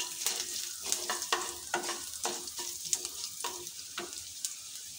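Whole cumin, chopped ginger and green chili sizzling in hot oil for dalia upma, a close crackling fry broken by repeated spoon stirring scrapes, with no talk.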